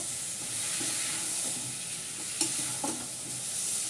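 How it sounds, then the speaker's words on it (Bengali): Boiled mutton being stirred and sautéed in a pan, a steady close hiss of sizzling with a couple of brief spoon scrapes, no talking. "মাংস সেদ্ধটা দিয়ে দিলাম। দিয়ে ভালো করে কষাবো।"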